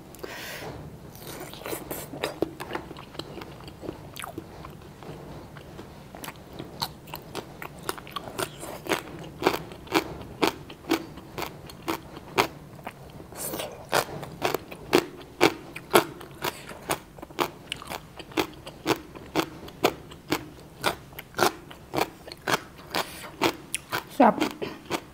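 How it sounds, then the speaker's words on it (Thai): Crispy pork belly is bitten and chewed close up alongside a spicy Thai snake bean salad. Repeated sharp crunches come in an irregular rhythm, growing denser and louder midway, with a voice talking at times. "กรอบนอกช่ำในด้วยพี่น้องหมูกรอบ"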